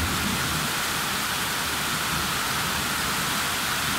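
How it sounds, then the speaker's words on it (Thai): Heavy monsoon rain pours down in Thailand in a dense, constant roar of hiss, loud and unbroken throughout with no voices. "ฝนตกแบบหนาแน่นมากตกทุกวัน"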